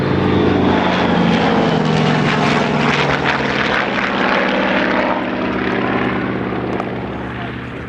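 A propeller aircraft engine runs loud and close on the ground at a 2005 Woodchurch gathering, with a pulsing, throbbing drone that eases slightly toward the end.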